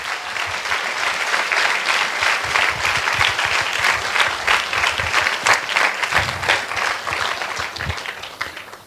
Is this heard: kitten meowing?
no